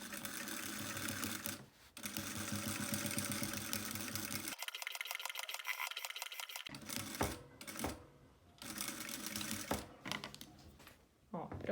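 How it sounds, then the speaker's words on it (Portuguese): A sewing machine stitches a small fabric flap on a handmade hygiene kit, running in loud rapid bursts with a short pause midway, and someone talks between runs. "Vou baixar a agulha bem aqui, ó, rente, bem rente ao início da lapelinha aqui, da abinha,"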